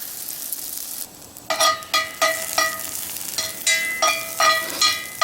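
Onions sizzle on a camp griddle for a Spam burger. After a quieter start comes a loud, close burst of crackling, then a run of sharp scraping and stirring clatters from a spatula against the griddle, repeated in quick bursts.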